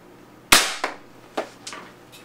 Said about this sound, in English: The gun is shooting louder, but I don't know why it's actually getting lower FPS.